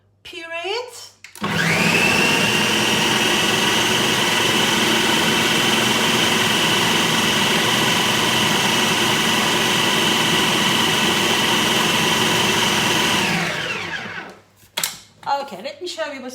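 Countertop blender purees chickpeas into hummus paste, a loud steady motor roar running about twelve seconds, with brief bits of sound before and after.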